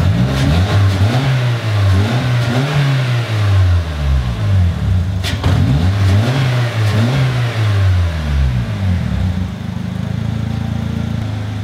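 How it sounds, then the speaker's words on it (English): A Polaris Slingshot engine revs repeatedly up close, several loud surges climbing and falling in pitch before it settles back to a rumbling idle. "So I'm gonna give it a little gas for you."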